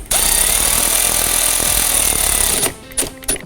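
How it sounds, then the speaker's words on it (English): A powered ratchet runs in one continuous loud whir while tightening nuts on a light bar mount on a 2023 Super Duty truck, then finishes with a few short clicking bursts. "Reverse direction on this powered ratchet. Tighten back down."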